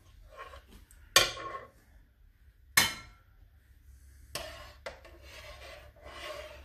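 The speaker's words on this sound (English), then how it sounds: "I'm just going to try and get the bits of garlic out of here" A spoon scraping garlic bits out of a slow cooker pot, with a few distinct rasping scrapes separated by quiet pauses and then softer rubbing, close and fairly quiet.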